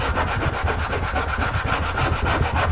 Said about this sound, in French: on va soigneusement poncer les champs sur tout le